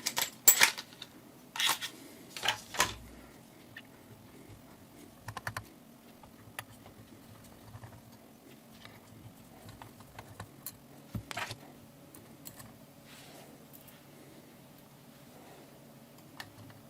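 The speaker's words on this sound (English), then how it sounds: "you only need to remove these 3 screws here" Three small screws are backed out of a Canon 35-80 lens during a teardown. Sharp little clicks and ticks come close up in a busier cluster at the start, then turn sparse and quiet.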